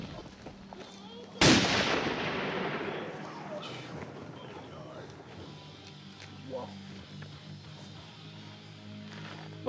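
A single sharp, loud blast from a Barrett M99 .50 calibre rifle near the start, followed by a long decaying echo rolling across open ground.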